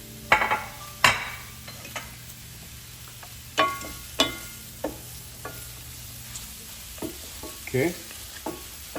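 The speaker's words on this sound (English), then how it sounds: "you have to stir the mushrooms until the juice extract from the mushrooms" Mushrooms sizzle steadily in a hot pan, their soft frying hiss broken by a series of sharp scrapes and knocks as a utensil stirs them, while a voice speaks briefly.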